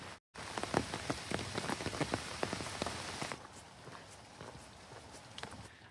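Rain falling in Washington Park Arboretum in Seattle, a dense close patter of drops on surfaces with occasional sharper hits, briefly cut at the start and thinning to a softer, quieter shower in the last few seconds.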